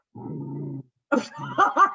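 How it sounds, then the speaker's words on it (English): A small dog gives a low, drawn-out growl, falls briefly silent, then lets out a few short, close yips and barks in quick succession. "She's supposed to bark twice."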